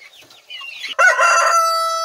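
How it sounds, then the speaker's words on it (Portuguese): A rooster crows loudly and close by, one long drawn-out cock-a-doodle-doo with a sustained tail, following softer clucking and fowl sounds at a farm where small predators raid eggs and chicks. "Esse galo, ele canta muito."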